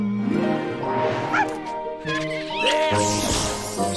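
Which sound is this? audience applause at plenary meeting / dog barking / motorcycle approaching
dog barking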